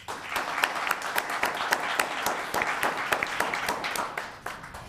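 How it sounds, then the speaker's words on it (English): Audience applause fills a town council chamber in Los Gatos, a steady wash of many hands clapping for nearly five seconds, with sharp individual claps popping out and a faint voice underneath before it tapers off. "Let's give a round of applause."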